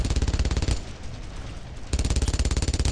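A machine gun in Brothers in Arms: Road to Hill 30, a World War II game, fires loud rapid bursts. A hard stream of shots stops for about a second and then starts again, with no talk.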